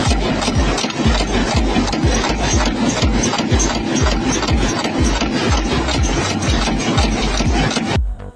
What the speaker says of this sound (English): This machine cuts a thick coil of steel wire into small, split rings with incredible speed and precision.